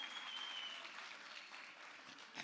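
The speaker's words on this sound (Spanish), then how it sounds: "Antonella, un aplauso para" Faint clapping from a crowd fills the whole moment, a steady patter of many hands heard from some distance.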